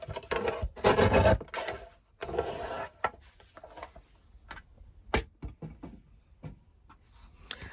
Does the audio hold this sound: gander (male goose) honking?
no